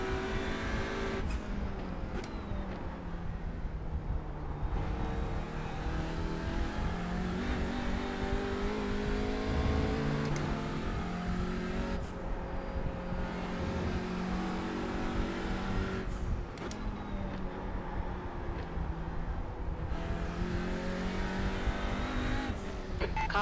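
Audi RS 3 TCR race car engine in iRacing at Silverstone Historic, revving hard through repeated upshifts with rising pitch sweeps and brief lifts off the throttle, loud and close throughout.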